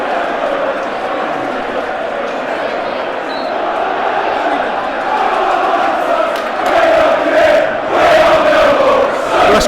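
A Millwall home crowd at a football match against Coventry City roars and cheers after a goal, the noise swelling louder toward the end with shouts on top and commentary voices over it.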